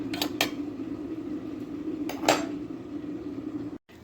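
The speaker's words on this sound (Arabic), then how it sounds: "جبت طاسه وحطيت فيها شويه زيت، وهحط المكسرات بتاعتي كده وهقلبها" Nuts being stirred in a pan with a little oil: a soft steady hiss of cooking with a few scattered clinks of a utensil against the pan, close by, ending abruptly in silence; no talk.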